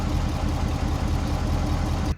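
A Ford 6.7L Powerstroke diesel engine in a 2011–2019 truck runs at a steady, loud idle close by, with a low rumbling drone and no talking.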